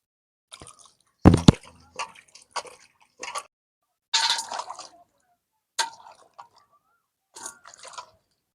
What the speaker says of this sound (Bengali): এবার আমি পরিষ্কার করে ধুয়ে নিচ্ছি।